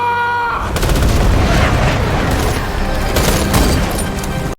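Dense, loud burst of gunfire and booming artillery-like blasts erupts right after a brief tonal opening and rolls on without pause, layered volleys filling the battle scene.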